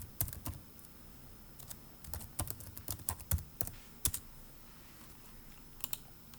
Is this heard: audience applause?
no